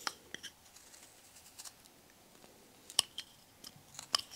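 A whittling knife carves a V cut into a small wooden angel figure, giving sparse, quiet scraping clicks and a few sharper snaps, close and alone.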